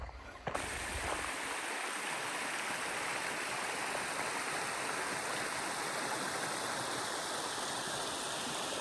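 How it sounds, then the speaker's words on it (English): Rapids rush through a stream in a riverbed at Natural Bridge State Park in Virginia, a steady broadband roar of flowing water that holds constant and close from start to finish with no voices. "A riverbed here. There's some flowing rapids."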